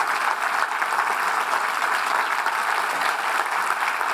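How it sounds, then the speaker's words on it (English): Applause for debaters at a literary debate event, a full audience clapping in a thick, continuous wash, loud and even from start to finish without speech. "please give a round of applause for all of our debaters tonight"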